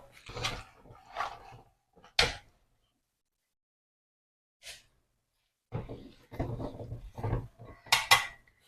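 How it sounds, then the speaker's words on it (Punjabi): A pot of cauliflower, carrot and turnip pickle in vinegar stirred with a utensil, giving several separate clinks and scrapes against the metal with quiet gaps between them. "ਤੁਸੀਂ ਹੁਣ ਗੈਸ ਨੂੰ ਬੰਦ ਕਰ ਦਿਓ ਤੇ ਇਹਨੂੰ ਦੋ ਤਿੰਨ ਵਾਰੀ ਹਿਲਾਓ"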